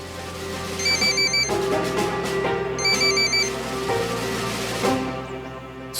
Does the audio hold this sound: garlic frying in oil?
no